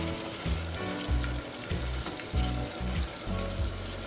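Brinjal sizzles steadily in a hot clay pot while being sautéed, with rhythmic stirring scrapes that repeat several times over continuous frying crackle.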